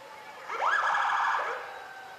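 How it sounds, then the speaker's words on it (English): Emergency vehicle siren at the 2008 Hudson Booster Days parade, a single rising and falling wail heard at a moderate distance, swelling and fading over about a second and a half. "They have the best sirens in town."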